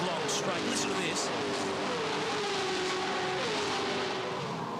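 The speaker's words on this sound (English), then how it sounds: "Yeah, they were all V8s. There wasn't a 6 in among them. Such a good sound." V8 touring race cars at a Touring Car Masters race at Hidden Valley blast down the long straight, several cars sweeping past one after another with loud, rising and falling engine roars.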